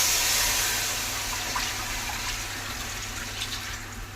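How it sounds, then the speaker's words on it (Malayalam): Water pours steadily into a cooking pot for rice, a continuous splashing rush that starts loudest and gradually softens as the pot fills, over a low steady hum. "ചോറ് വേവാനുള്ള വെള്ളം കൂടി അത് ഒഴിക്കാം"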